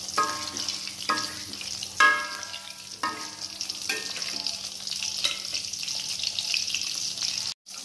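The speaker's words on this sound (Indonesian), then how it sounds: "untuk menggoreng telur ceplok ini" Sunny-side-up eggs fry in an oiled pan with a constant hiss and sizzle, punctuated by periodic spatula scrapes and bursts of spattering, close up with no talk.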